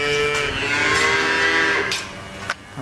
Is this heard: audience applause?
no